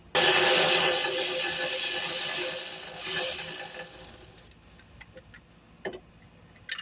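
A ratchet with an extension loosens a sway bar bolt on a 2011–2017 Dodge Charger. A loud, steady burst of rapid clicking is followed by quieter scattered ticks and clacks as the tool works close by.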